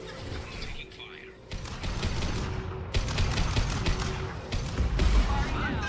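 Gunfire in the sci-fi shooter Mass Effect 2, bursts of rapid shots and impacts crackling for several seconds in a busy firefight, partly under game voices.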